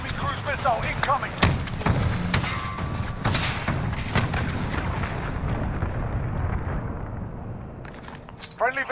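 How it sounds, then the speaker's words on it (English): Cruise missile strike explosions in the shooter Modern Warfare go off as a series of heavy booms and thuds, loud and close at first and then rumbling away, with game radio voices and gunfire mixed in. "Enemy cruise missile incoming."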